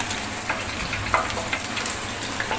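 French fries fry in hot oil with a steady, crackling sizzle throughout and scattered small pops, heard up close with no voices.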